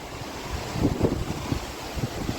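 Strong wind gusting across an overflowing dam while waves of water slap and surge, a loud, close rush with buffeting microphone noise and irregular swells.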